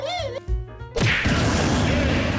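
Miniature creatures being whacked in the Poppy Playtime video game, a loud sudden smash that follows a stretch of tonal game music and then gives way to a dense, rumbling wash of noise.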